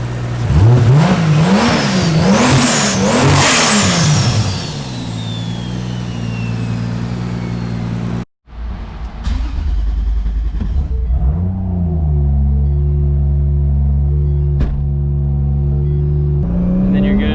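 A 2JZ-swapped Mustang fitted with a new, bigger turbo revs loudly up and down in sweeping climbs, then settles into a steady rumbling drive with a brief cut midway and another rev surge near the end.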